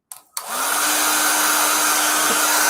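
A hair dryer blows steadily close by, drying wet paint on a Christmas tree painting; the motor switches on after a couple of short false starts, then roars continuously at full strength with no talking.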